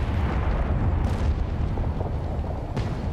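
A large explosion in the video game Halo Infinite, a loud sustained rumbling blast with deep low-end roar across the whole span and a couple of sharper bursts layered in.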